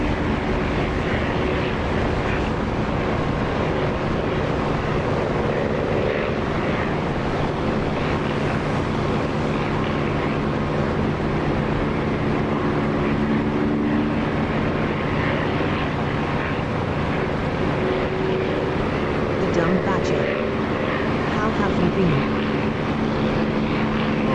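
A helicopter hovers in the DCS flight simulator game, its rotor and engine giving a steady, loud, droning thrum that holds evenly from start to finish with no voices.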